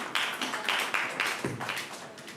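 Scattered audience applause at a youth policy conference, a handful of distinct claps in a loose, uneven rhythm, fairly faint and alone.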